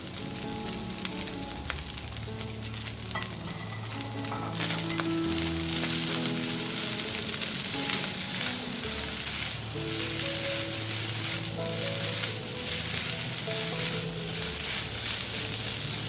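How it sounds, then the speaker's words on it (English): Fried rice is stir-fried with fried potato and tofu, giving a continuous close sizzle with spatula scrapes and tossing over a low musical background, no speech. "Add the fried potato and tofu after 1 minute and stir fry for another"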